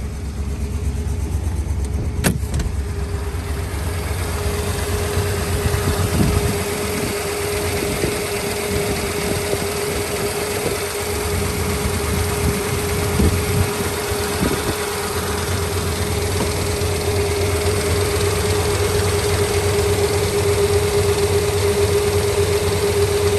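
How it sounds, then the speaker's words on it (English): A 1963 Chrysler Crown Imperial engine runs steadily at idle, a constant low hum and rumble holding throughout with a faint sharp tick near the start. "Turn on the lights, listen to the engine."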